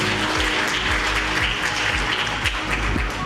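Audience at a construction management ceremony clapping loudly and continuously, a dense, even applause with low thumping undertones throughout.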